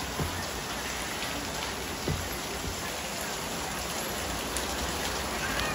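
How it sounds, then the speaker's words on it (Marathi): Heavy monsoon rain pours down in a steady, dense, close hiss, unbroken throughout with no voices. "फार भरपूर पाऊस पडतोय"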